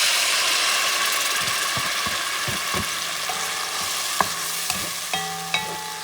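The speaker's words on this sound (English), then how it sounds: "Add the tomato sauce." Garlic and tomato sauce sizzle loudly in a pan for a Puerto Rican shrimp stew, a steady hissing fry with occasional clinks and scrapes of stirring near the end.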